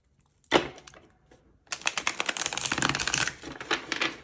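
Tarot cards being shuffled by hand, a brief riffle at first, then a longer run of dense, crisp card flutters and snaps, close and fairly loud, with no talk.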